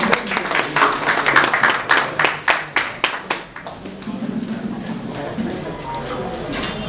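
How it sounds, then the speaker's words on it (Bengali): An audience at the 11th anniversary function of Annyadhara Sahitya Prakashana claps to welcome the chief guest, a burst of fairly loud applause that gradually thins and fades into murmuring room noise. "একটু করতালি দিয়ে"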